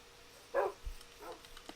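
Dogs in the game Minecraft give a short, soft bark followed by a fainter second yip, brief and quiet against a near-silent background.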